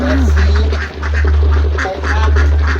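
A flock of laying ducks quacks repeatedly in short, clustered calls from a farmyard pen, heard over a loud, steady low hum.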